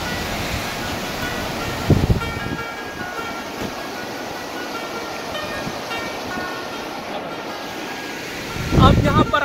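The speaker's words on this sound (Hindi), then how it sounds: "ज़्यादातर जो सैयाह आते हैं वो यहाँ पर रुक के दरिया स्वात के जो मौज मस्त लहरें हैं वो" Swat River in Miandam Valley, Swat, rushing steadily as a continuous broadband roar with wind buffeting the microphone, a couple of louder gusts or surges near the start and end, no talking.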